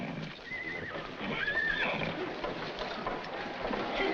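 A horse neighs over a steady background rumble, its whinny rising and falling briefly near the middle.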